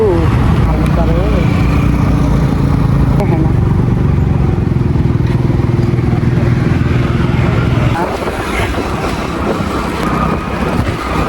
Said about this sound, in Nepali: अब जाँदाखेरि चाहिँ म स्कुटी चलाउँछु